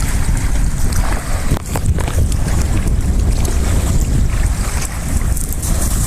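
A fishing boat moves across open water at a river mouth while strong wind buffets the microphone in a continuous rushing roar, with splashing waves underneath.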